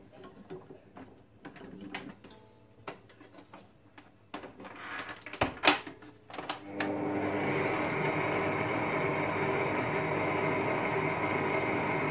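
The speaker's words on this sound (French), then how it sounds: "dans mon bol du robot, j'ai 200 ml de crème liquide entière que je vais venir donc monter en chantilly" A stand mixer whips 200 ml of whole liquid cream into chantilly, its steady loud whirring taking over midway after a stretch of light ticks and clatter from the bowl.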